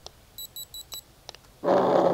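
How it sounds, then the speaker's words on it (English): Several short, high electronic beeps from a dog e-collar in a quick even series, then a louder buzzing tone kicks in briefly at the end. "he'll get to know that the beep beep means that's coming"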